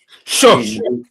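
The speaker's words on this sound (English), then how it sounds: "I just sneezed" A sharp, explosive sneeze bursts out close by, quickly followed by someone speaking.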